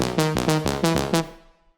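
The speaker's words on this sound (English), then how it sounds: "because without this reverb it will sound like this." A bright trance synth lead plays five quick, evenly spaced chords, loud and completely dry, each note cutting off sharply before the last one fades to silence.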